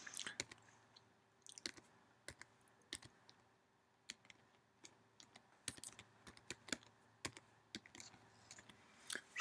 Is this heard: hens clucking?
no